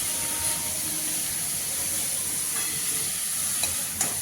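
Chopped cabbage frying in a pan over lowered heat, a steady close hiss and sizzle with a few soft scraping stirs near the end, no talking.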